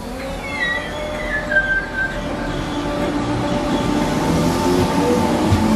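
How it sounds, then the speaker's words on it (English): A new Merseyrail electric train bound for Ormskirk pulls into a station, rising motor whine and squealing brakes over rolling wheel rumble, steady and close. "a new train arriving going to Ormskirk"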